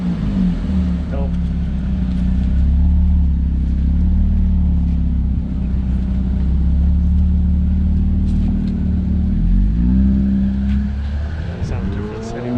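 A Subaru GC8 car with a newly fitted Q60 sport exhaust idles and revs, giving a loud, deep steady drone with two rising rev sweeps near the end while people talk over it.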